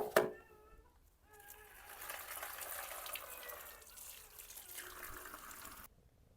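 Running water while washing something at an outdoor spot in a village, a steady splashing and trickling stream lasting several seconds before stopping abruptly, preceded by a brief clatter.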